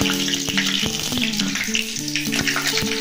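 Crushed garlic with nigella seeds fries in hot oil in a pan, giving a loud, close, continuous sizzle with crackling spits and small clinks, and no voices.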